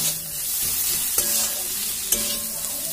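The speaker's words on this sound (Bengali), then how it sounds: "এখন এটাকে আমরা আস্তে আস্তে এই মশলার সাথে কষতে আরম্ভ করবো" Live snails stirred with masala in a pan for an Indian snail curry, a steady close sizzle with a few sharp clicks of the spoon against the pan.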